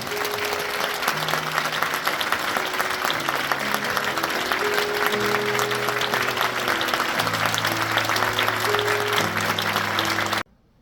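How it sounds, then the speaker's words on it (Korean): A church congregation applauds steadily during a gift presentation at an ordination thanksgiving service, sustained clapping with a soft organ or keyboard playing underneath throughout, cutting off abruptly at the end. "큰 박수로 축하하겠습니다"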